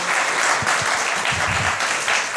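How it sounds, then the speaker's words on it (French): A lively audience claps at a contest's grand finale, with dense, continuous applause and a few low thumps beneath, close and loud throughout. "Ben oui, on peut applaudir, c'est écœurant. Bravo pour ça."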